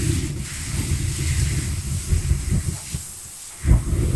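A foam fire extinguisher discharging from its launching handle, a steady broad hiss of spray running throughout with a louder surge near the end, close and continuous.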